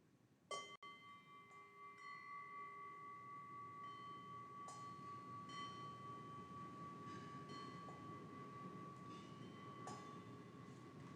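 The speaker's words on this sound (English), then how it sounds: "we ring our bells." Bells rung during a Sunday church service: a sharp strike, then long sustained ringing tones, with further strikes layered over a soft room hum and no speech.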